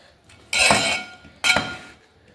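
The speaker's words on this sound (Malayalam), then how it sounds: "ഉരുളിയിലാകുമ്പോൾ ഇളക്കാൻ നല്ല സൗകര്യമാണ്" Stirring inside a bronze uruli cooking vessel, two bright metallic scraping clinks about a second apart, close and moderately loud, with quiet pauses between and no talk.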